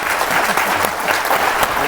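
Applause for a panel at an artists' collectors summit, dense, even clapping from a sizable indoor crowd throughout, close and loud.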